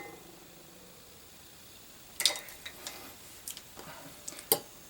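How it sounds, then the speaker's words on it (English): Chocolate cake batter with egg being stirred in a mug for a microwave cake: faint, irregular clicks and light taps of a utensil against the mug after a quiet start, close by and with no voices. "Mix that around."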